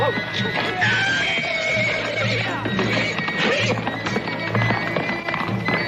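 A horse neighs loudly amid clip-clopping hooves and commotion in a western TV series, with voices shouting over the scene.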